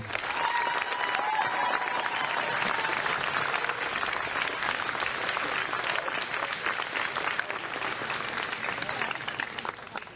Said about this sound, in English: join me in applauding the class of 2022